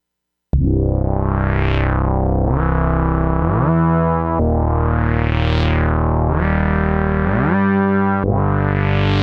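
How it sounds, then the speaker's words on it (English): A buzzy, distorted Moog synthesizer plays a melodic line with a duophonic patch, two voices with glide sliding smoothly up and down between pitches, loud and sustained without pauses. "it's a duophonic patch with glide or portamento"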